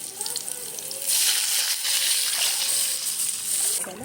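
Buttermilk pours into a hot tempering of garlic, curry leaves and a little turmeric, so a sudden loud sizzling rush rises over a quieter crackle, then fades out.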